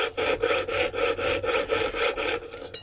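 Steady back-and-forth sawing through coiled recycled copper wire clamped in place to cut chainmail rings, a close, loud rhythmic rasp of about ten even strokes with no talking.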